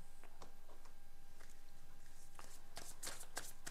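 Tarot cards being shuffled by hand, a soft run of papery riffles and flicks, sparse at first and then thicker and crisper toward the end, close and fairly quiet with no talking.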